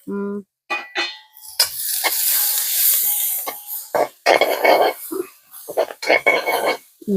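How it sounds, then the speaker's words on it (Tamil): Onion frying in oil with mustard seeds, curry leaves and green chilli, a loud crackling sizzle broken by stirring scrapes, with a voice talking between bursts. "இங்க வேற வெங்காயமும் ஒரு அளவான பதத்துல பொரியுது"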